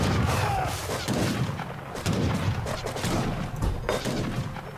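Repeated booming cannon shots and crashing impacts fill a busy Age of Empires 3 battle, with thumps coming irregularly one after another.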